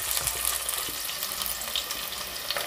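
Chopped onions going into about half a cup of hot oil for an aloo matar curry, giving a steady close hiss and crackle of frying, with faint clinks and no talking.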